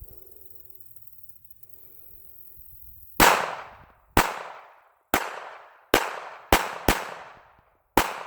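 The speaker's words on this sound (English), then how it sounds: "I'm going to go ahead and fire a few more rounds through this thing" Seven sharp, loud pistol shots from a Sig Sauer P238 .380 fired outdoors in Texas, irregularly spaced after a few quiet seconds, each cracking hard and then ringing out briefly.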